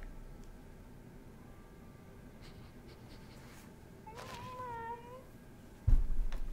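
A house cat meows once, a short rising-falling call in the middle, fairly faint over steady low room noise, followed by a sudden loud bump near the end.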